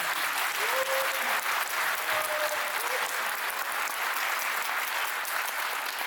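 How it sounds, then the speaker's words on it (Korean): Steady, dense applause from a large audience at a Korean community gathering with the president in Beijing, filling the whole stretch at an even level with faint tones briefly rising above it. "박수 한번 부탁드립니다."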